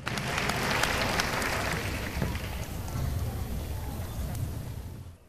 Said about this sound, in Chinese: 请用掌声给我们鼓励一下